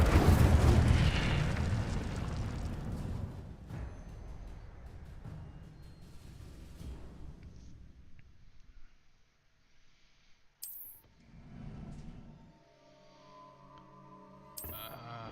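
An Incendio fire spell cast in a Hogwarts video game bursts out with a loud whooshing roar that fades over several seconds, followed by quieter magical chimes and shimmering tones.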